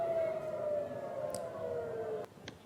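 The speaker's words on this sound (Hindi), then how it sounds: "वहीं लगातार इजरायल में सायरन की आवाज सुनाई पड़ी" Air raid sirens wailing across Israel during an Iranian missile attack, a distant faint tone holding steady then cutting off abruptly, followed by brief sharp noises.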